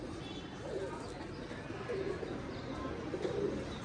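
Soft, low, repeated cooing from a pigeon close by, set against steady outdoor background noise, with no talking.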